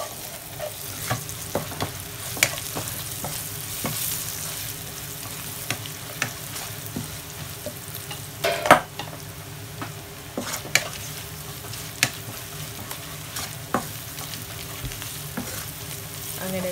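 Chili powder sautéing in a pan for a Kerala kappa (tapioca) ulathiyathu dish, a steady soft sizzle with frequent scraping and stirring clicks from a spatula, close and alone without voices.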